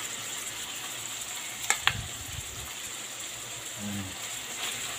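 Sliced carrots dropped into a hot frying pan while cooking pancit bato, a steady soft sizzle with a brief clatter and stir near the middle, close and fairly quiet.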